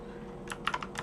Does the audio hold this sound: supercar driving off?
no